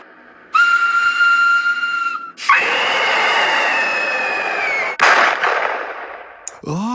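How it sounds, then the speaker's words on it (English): A loud, sustained steam whistle blows in long shrill blasts over a roaring rush of steam, cutting off abruptly before a brief final burst. "an engine puffing at full speed, with a sudden loud whistle"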